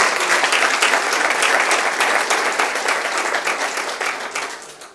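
A church congregation claps and cheers in sustained applause during a worship service, loud and dense throughout, slowly tapering slightly toward the end.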